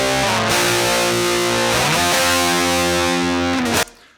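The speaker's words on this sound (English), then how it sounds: "So what I've done is I've recorded my guitar and amplifier coming directly out of the effects loop send on the amp." An electric guitar and amplifier, captured straight from the amp's effects loop send, play heavily distorted sustained chords with a few changes, loud and continuous, then stop abruptly near the end.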